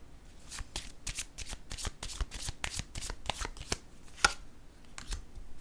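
Playing cards are shuffled and dealt onto a table in quick, crisp riffles and soft slaps, close and fairly quiet, with one sharper snap near the end.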